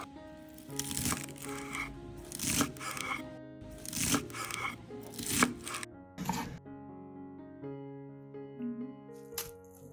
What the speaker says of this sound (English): First, chop the lettuce into bite-sized pieces.